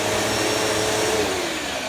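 A Hoover Elite Rewind Deluxe upright vacuum cleaner runs steadily with a constant whirring motor drone, close and continuous, with no voices.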